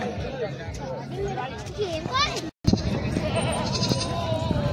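Goats bleat repeatedly in a busy goat market in Bhopal, the wavering cries rising over steady crowd chatter and people talking close by.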